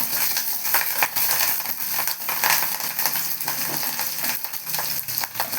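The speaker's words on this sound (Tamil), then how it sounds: "கொஞ்சம் வெங்காயம் போட்டுக்கலாம் பச்சை மிளகா போட்டுக்கலாம் கருவேப்பிலை போட்டுக்கலாம் நல்லா கிண்டி விடணும்" Onion, green chilli and curry leaves sizzle in a pan for an egg curry while a spoon stirs them. A steady hissing fry runs throughout, broken by frequent light scraping and clinking strokes.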